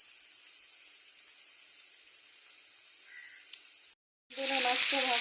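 Fish frying in hot oil in a pan, a steady close sizzle that cuts out for a moment, then returns louder and harsher alongside some tonal sounds.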